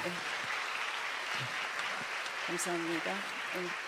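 A church congregation at a Spanish-language Sunday morning service applauds to welcome a missionary, a quiet, steady wash of clapping heard from some distance, with brief voices rising through it.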